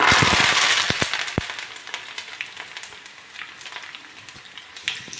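Curry leaves hit hot oil with mustard seeds, urad dal, chilies and garlic during tempering for a mango-ginger pickle, giving a loud burst of crackling and popping that settles into a steady, softer sizzle.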